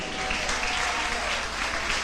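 A church congregation breaks into dense, continuous applause that fills the room at a steady level, with voices mixed faintly into the clapping.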